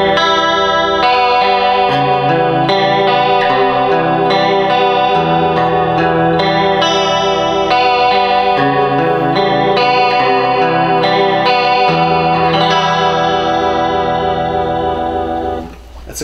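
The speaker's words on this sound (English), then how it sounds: "This is the vibrato setting on the amp." Electric guitar played through a Roland JC-40 amp on its vibrato setting, chords and notes wobbling in pitch with a steady pulsing shimmer, loud and continuous, fading briefly at the close.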